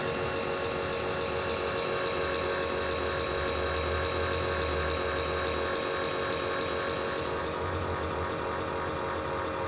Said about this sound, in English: And we can hear the pumps in the back.